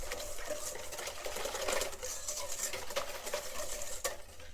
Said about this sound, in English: and just whisk, just to mix it.